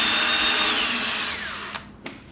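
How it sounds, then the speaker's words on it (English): Power drill driving screws into a garage cabinet door: a loud high whir that slows and drops in pitch as the screw seats, followed by two short bursts of the trigger. "now we have to drill these guys in right here"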